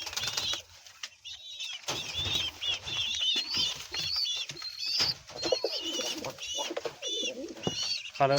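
Pigeons coo in rapid overlapping calls close by, joined by wing flaps and scattered chirps from a loft of birds, with steady activity throughout.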